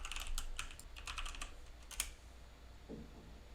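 Rapid keystrokes on a computer keyboard while a command is typed on a Raspberry Pi 4, a quick run of close clicks followed by a brief pause and a few scattered taps.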